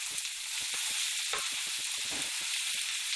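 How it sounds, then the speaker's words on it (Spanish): Onion browns in butter in a pan, giving a bright, steady sizzle with repeated soft knocks and scrapes of stirring, close by and heard alone without any talk. "voy a poner la mantequita. Y vamos tratando de dorar la cebolla."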